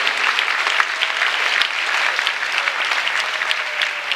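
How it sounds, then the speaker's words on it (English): A crowd at a rally against police violence claps steadily and loudly for about four seconds, a continuous close burst of many hands with no speech over it. "put your hand together"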